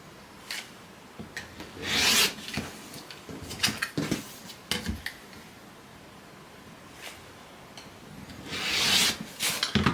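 Quilt fabric is trimmed along a drawn line, with intermittent rustling and rubbing swishes of cloth and soft cutting sounds, close and fairly quiet, without talk.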